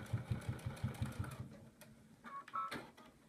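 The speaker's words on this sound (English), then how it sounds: "go forward, and then back it up all the way, because we really want to enforce that stitching" A sewing machine runs a quick series of stitches to reinforce the end of a bag strap, a fast, even, close mechanical chatter that stops halfway through, followed by a few faint clicks and handling noises.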